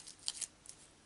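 Scissors snip through paper while cutting out a pot shape for a Stampin' Up card, a few faint, quick crisp cuts close by over a soft background hiss.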